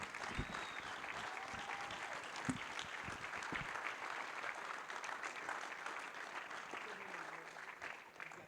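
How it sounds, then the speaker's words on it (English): Applause from the audience at the 2025 North Carolina Motorsports Industry Awards ceremony, a steady sustained clapping across the whole stretch, fairly distant and even, with some indistinct voices mixed in. "Give a round of applause."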